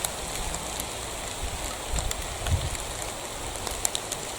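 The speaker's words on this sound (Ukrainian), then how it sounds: "У нас кожен день дощ." Light rain patters steadily on a vegetable garden, a soft continuous hiss with scattered drips and a faint low thud near the middle, no voices.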